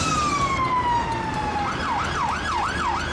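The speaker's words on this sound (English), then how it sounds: "England police car." A UK police car siren glides down in a long falling tone, then switches to a rapid rising-and-falling wail, fairly loud and steady, heard on its own.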